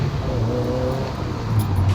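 A Honda S2000 fitted with an HKS Hi Power exhaust drives along, giving a steady low engine drone with a rise in level near the end, and no talk over it.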